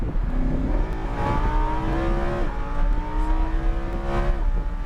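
A Lamborghini Huracan LP 610-4 accelerating hard on a race track during a track day, its engine note climbing through rising revs with a brief shift in the middle, loud and close with no voices.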